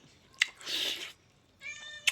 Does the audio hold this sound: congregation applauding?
no